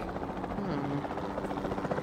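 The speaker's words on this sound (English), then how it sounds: "the sensible thing is to take a capture team helicopter" Capture team helicopter in the Jurassic World Evolution 2 video game, a steady close rotor thrum and engine drone held throughout, with a voice speaking over it.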